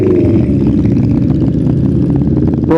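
A motorcycle at a Distinguished Gentleman's Ride idles close by, its engine giving a steady, loud, even mid-range throb that holds for the whole stretch, with a short higher blip right at the end.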